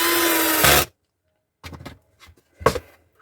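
A small screw being driven into a plastic speaker terminal while fitting a 6-inch speaker box, heard as a loud continuous power-driver whir that stops abruptly, followed by a few brief scraping and tapping sounds.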